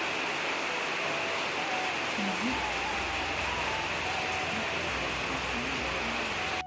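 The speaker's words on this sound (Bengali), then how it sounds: "বাইরে প্রচুর হারে বৃষ্টি পড়তেছে" Heavy rain pours steadily, a dense and unbroken hiss that fills the whole scene.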